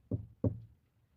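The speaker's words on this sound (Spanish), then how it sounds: "escuchamos 3 golpes en la puerta." Two sharp knocks on a door, close and distinct, about a third of a second apart, followed by quiet.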